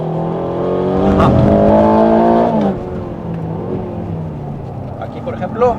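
A 2025 Aston Martin Vantage sweeps through a curve as the driver eases off the brake, its engine note loud and steady before dropping back. Someone talks over the car throughout.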